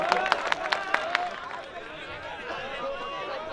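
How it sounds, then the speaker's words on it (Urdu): An audience at a mushaira in Parbhani breaks into a short run of sharp claps that loosens into scattered clapping and crowd chatter, with the hall murmuring on behind it. "ایک بار عظمت بھائی کے لیے تالیاں بجا دیں"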